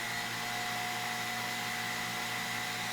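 A Jimmy mattress vacuum cleaner runs with a steady, even motor whine and airflow hiss, constant and close throughout with no speech.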